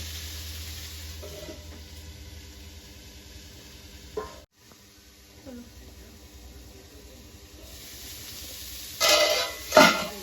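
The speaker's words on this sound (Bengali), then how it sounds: "এবার আমি ভালো করে এটাকে ভেজে নেব" Green chilli, ginger and cumin paste frying in a pan, a low steady sizzle with occasional faint stirring clicks, broken by a brief pause and ending in a louder crackling burst as the pan is handled.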